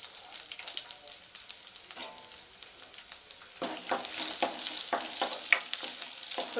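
Chopped garlic frying in oil for Gobi Manchurian, a steady close sizzle that grows louder and denser halfway through, with crackling pops and occasional stirring scrapes.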